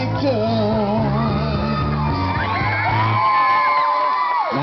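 A crowd at a Tondo fiesta show shouts, whoops and cheers loudly and continuously, with a tonal voice rising above the din partway through.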